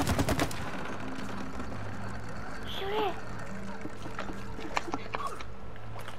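A rapid burst of gunfire from It Takes Two opens loudly, followed by scattered lighter shots and game effects while players talk over the action.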